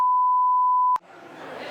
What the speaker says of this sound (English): That little bleep buzzer, that's going to be in my dreams